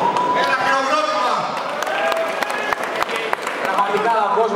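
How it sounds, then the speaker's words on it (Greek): A large crowd applauds at the Xbox Arena Festival, a big Greek gaming event, with dense, continuous clapping filling the hall while voices carry over it. "Ένα χειροκρότημα!"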